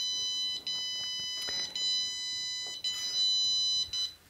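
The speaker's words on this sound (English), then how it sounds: "it's emitting a tone so that you can find it if you happen to leave your earbud outside of the case" Locator tone from a JBL Tune 230NC earbud left outside its case: a loud, piercing electronic beep that repeats in several sustained pulses with short gaps, heard alone.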